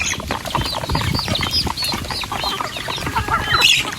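Chickens squabble over food, with busy overlapping clucks and squawks and bursts of flapping wings, loud and close throughout.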